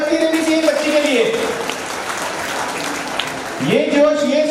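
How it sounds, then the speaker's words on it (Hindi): An audience at a community annual function in Ahmedabad applauds a young girl's speech, a brief burst of clapping heard between stretches of a voice speaking over a microphone. "एक बार तालियां बच्ची देनी चाहिए बच्ची के लिए।"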